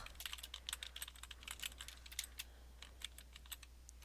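Steady, rapid typing on a computer keyboard as a calendar entry title is entered: many crisp, close keystrokes in an uneven rhythm over a constant low electrical hum.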